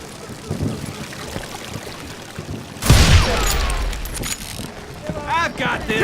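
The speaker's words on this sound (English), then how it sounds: "They're shooting in the street!" Gunfire erupting in a street in the Western shooter game Call of Juarez: Gunslinger, a loud burst of shots with ringing debris and rumble, speech heard before and after.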